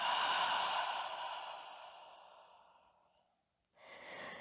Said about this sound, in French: Vous pouvez prendre une grande inspire par le nez ici. Une longue expire par la bouche.